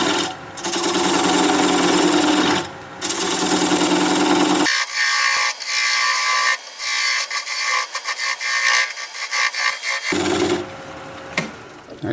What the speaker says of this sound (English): I'm going to use a 3/8 inch bowl gouge and commence to removing that tenon